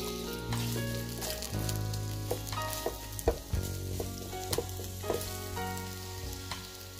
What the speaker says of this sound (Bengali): পেঁয়াজটাকে 3-4 মিনিট ভালো করে ভেজে নিতে হবে।